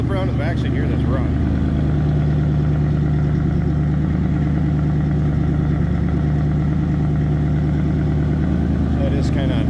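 A 1961 Cadillac Series 62 coupe's engine runs at a high idle after a cold start, a steady, loud, low-pitched drone that holds evenly throughout with a faint rumble beneath.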